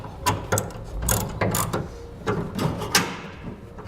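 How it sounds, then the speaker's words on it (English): Ratchet with a 1/2 inch socket tightening a flange nut during a fifth wheel hitch install on a 2014 Toyota Tundra, several close, crisp bursts of rapid clicking in an uneven rhythm. "We'll take a 1/2 inch socket, tighten it down."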